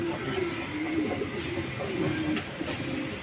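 Racing pigeons coo steadily and close by in a loft, a continuous low throaty cooing from several birds with a brief sharp knock near the end.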